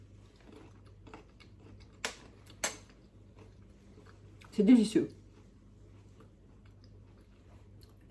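A lacto-fermented garlic clove bitten with a couple of sharp crisp cracks, followed by a short burst of close crunchy chewing; a brief spoken remark comes in French.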